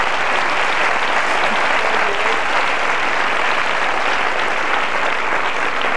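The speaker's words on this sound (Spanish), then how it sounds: "¡Hombre, denle un aplauso," Studio audience of a Spanish television variety show applauding loudly and steadily, a dense, even wash of clapping throughout with no talk.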